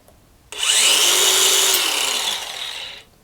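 A DeWALT cordless angle grinder with a freshly changed cutting wheel spins up sharply, whines at speed for about two and a half seconds, then cuts off and winds down, loud and close.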